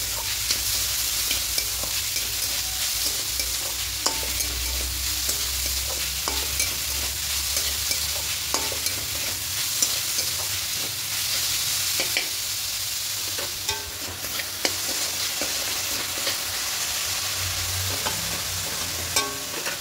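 A spoon or spatula keeps scraping and stirring coconut filling in a hot pan for steamed palm puli pitha, with a continuous low sizzle under the rhythmic stirring.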